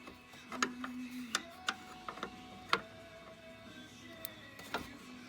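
A 13 socket wrench ratcheting on the radiator of a 1996 Ford Thunderbird, giving quiet, close metallic clicks in short irregular bursts with pauses between, alone in a steady hum.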